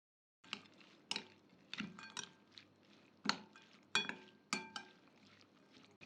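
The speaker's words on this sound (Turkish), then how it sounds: "Şöyle yeteri kadar tuzunu da ilave ediyorum ve güzelce karıştırıyorum." A spoon stirs a dried tomato salad with sauce and salt in a bowl, giving repeated scraping clinks of metal against the dish at an uneven rhythm, close and moderately quiet, with no talk.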